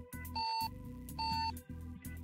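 CB radio roger beeps in a truck driving video game, repeated short electronic tones over a buzzy low engine-like hum, coming in clipped bursts with brief gaps.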